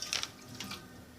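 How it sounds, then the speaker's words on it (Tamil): A brief splash and trickle of water being poured into a pressure cooker pot while making dal, close by, with a couple of louder gushes. "கொஞ்சம் தண்ணி விடுறேன்"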